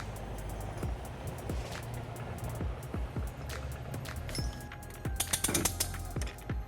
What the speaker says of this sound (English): We're going to be using our U-Haul exclusive hitch jack.